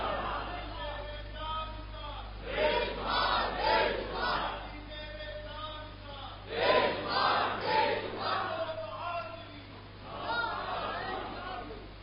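A large crowd shouts religious slogans in unison in repeated loud bursts, the chants rising and falling in waves over a background of crowd noise.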